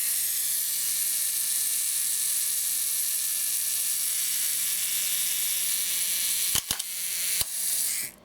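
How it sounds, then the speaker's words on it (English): A black Nikon F film camera with an eye-level prism runs its mechanical self-timer, a steady close buzzing whir lasting several seconds, then the shutter fires in a few sharp, crisp clicks near the end. "self timer and the shutter firing"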